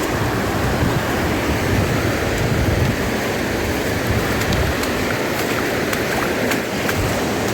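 A river rushes under a bridge in a dense forest valley, roaring steadily and loudly, a broad continuous wash of sound with no pauses, heard from close by on the bridge.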